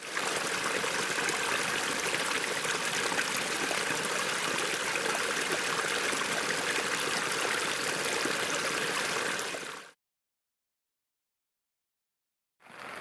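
Water boiling on a BioLite CookStove outdoors, a steady rushing, bubbling hiss that holds constant for about ten seconds before cutting to silence.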